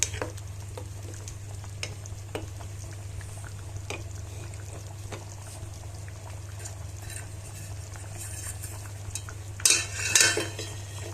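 Orzo (lisan asfour) boils in a pot on a home stove while a spoon stirs it. A low, steady bubbling hum runs throughout, with soft scraping and a brief clatter of the spoon against the pot near the end.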